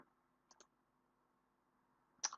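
Sharp computer mouse clicks sound in a quiet room: a quick double click early, then another cluster of clicks near the end, all crisp, close and isolated against faint background hum.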